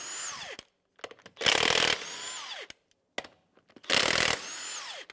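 A power tool zips off 22 mm lug nuts on a 2015-2020 Cadillac Escalade in two loud, short bursts, each with a whine rising and falling around it and clicks in between, close by.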